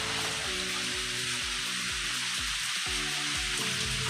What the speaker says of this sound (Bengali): এই দেখো প্রচণ্ড বৃষ্টি হচ্ছে